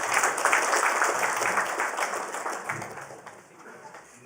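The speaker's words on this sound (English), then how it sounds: "Let us welcome him with a warm round of applause." Audience applause at a school of architecture graduation day ceremony in Ooty, a dense crowd clapping steadily in a hall that fades slightly toward the end.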